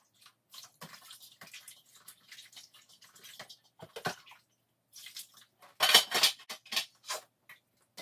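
Dishes washed by hand in a home kitchen sink the old-fashioned Jamaican way, with scattered clinks of plates and cutlery and splashing water, coming in intermittent bursts that grow louder and busier midway.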